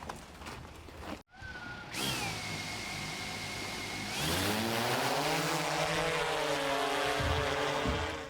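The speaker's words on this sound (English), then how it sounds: "we're flying our thermal drone over this whole entire property" Thermal drone flying over a 100-acre rural property, its steady motor whine holding a sustained tone that rises in pitch partway through and then stays loud and continuous, with a brief dropout near the start.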